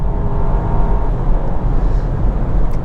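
A 2025 Volkswagen Tiguan SE, front-wheel drive with a turbocharged 2-liter four-cylinder, pulls hard under acceleration, producing a loud, steady engine drone heard from inside the cabin.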